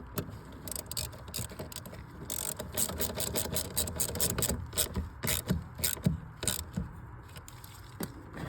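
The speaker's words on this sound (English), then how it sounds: "And just tighten those down with a 13 millimeter." A socket ratchet with a 13 millimeter socket clicks rapidly in quick bursts, tightening bolts on a 2002-2006 Mini Cooper S R53 after oil filter housing and oil cooler seal work. The clicking is steady and close against a background hiss.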